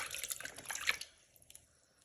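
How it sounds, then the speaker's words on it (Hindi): Feet dipped in water and rubbed by hand to wash off a foot mask during a home pedicure make a second of soft, faint splashing and swishing that fades to near quiet. "मैं इनको करती हूँ पानी में डिप, और हाथों से अच्छी तरह रब कर करके इस मास्क को उतारने की कोशिश करती हूँ"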